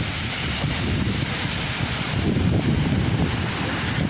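High sea waves roll in at Ageeba beach in Marsa Matrouh, a continuous broad wash of surf mixed with steady wind buffeting the microphone, with no voices.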